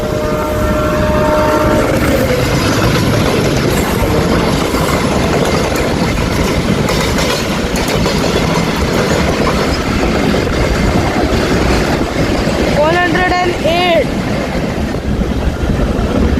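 Aboard the Mumbai CSMT–Dhule Express hauled by a diesel locomotive near Kalyan, a loud, continuous rumble of wheels and engine runs at about 108 km/h, with a horn blast near the end and a brief spoken voice.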